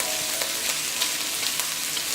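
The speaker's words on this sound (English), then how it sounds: "just turn over. Then fry another side." Prawns fry in a hot wok, giving a loud, dense, continuous sizzle close up with small crackles and pops throughout and no talking.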